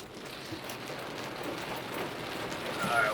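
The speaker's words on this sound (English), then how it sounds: "Yeah man, the rain come again." Rain patters steadily on a car during a driving lesson in Jamaica, a dense, even hiss that swells slightly toward the end, heard alone without speech.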